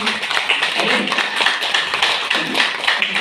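Audience clapping at an information session in a wellness center, a steady, fairly loud wash of many hands without pause.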